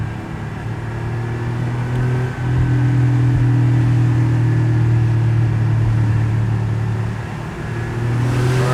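An air-cooled Porsche 964 Cabriolet flat-six running close by, a deep steady humming drone with a short dip and a rise partway through, then easing and building again near the end, no talking.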